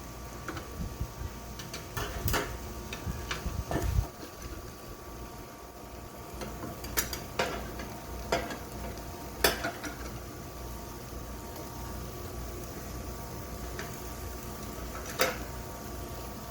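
A small metal spatula scrapes and taps against the plate of a smokeless indoor grill while fish and shrimp cook, giving scattered sharp clicks and scrapes over a steady low hum, with no talking.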